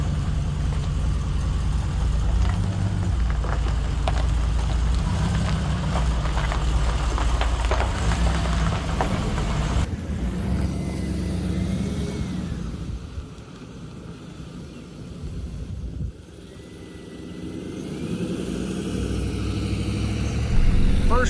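An LS-swapped car on its first drive roars with a loud, steady engine drone under wind buffeting, then drops to a lower rumble before building again.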